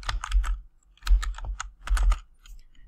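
Typing on a computer keyboard: three quick bursts of crisp key clicks separated by short pauses, close and clear with no voices.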